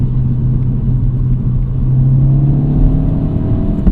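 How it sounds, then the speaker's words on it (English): A 2025 Mini Cooper JCW engine drones steadily from inside the cabin, its low rumble and whir climbing in pitch through a gear change, loud and continuous with no talking. "That little hesitation when it does an upshift, I like that a lot"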